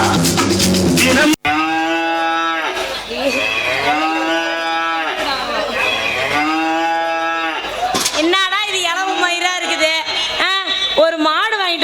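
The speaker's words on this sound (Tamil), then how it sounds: "இந்த மாடு என்னன்னா பால் பீச்சை நிக்கவே மாட்டேங்குது" A cow moos repeatedly in a comedic sketch about a dairy cow that won't stand still for milking, its drawn-out calls loud and close, mixed with music and other sounds.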